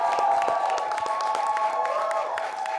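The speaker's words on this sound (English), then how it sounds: "A big round of applause" Studio audience applause and cheering greet a guest introduced on a talk show, a full crowd roar with clapping layered over sustained music, close and loud throughout.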